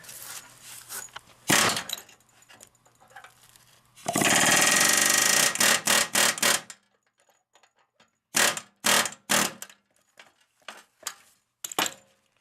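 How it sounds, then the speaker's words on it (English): Bursts of a pneumatic air hammer rattling against metal while driving out a knurled pin from a float ride seat, one long sustained burst followed by short repeated blasts, loud and close with pauses between. "use our air hammer"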